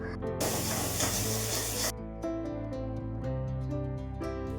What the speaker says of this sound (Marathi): तर आता कांदा ऑलमोस्ट परतलेलाच आहे गोल्डन कलर आलेला आहे त्याला